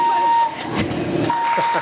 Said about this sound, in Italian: Ecco il fischio. Il fischio è questo.